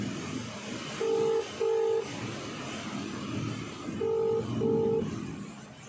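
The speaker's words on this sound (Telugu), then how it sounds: "అతనికి ఫోన్ చేద్దాం." A phone number dialled on a keypad, four clear electronic tones in two pairs with a gap between them, over a steady background hum.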